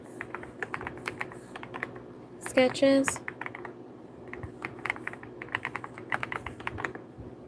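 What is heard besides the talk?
typing names on a computer keyboard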